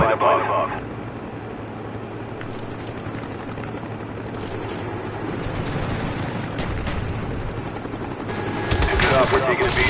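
An enemy Cobra attack helicopter in the shooter Black Ops thrums in the background amid bursts of machine-gun fire, with game voice callouts over the noise.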